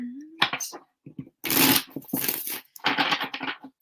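Bursts of crisp riffling and flicking as a deck of tarot cards is shuffled a couple of times, with short pauses and soft voice-like sounds between shuffles.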